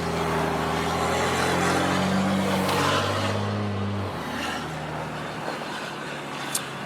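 A 6.7 Cummins diesel pickup with Banks intercooler pipes accelerates with a deep, throaty drone that climbs through rising engine tones, then eases off to a rumbling idle, close and loud.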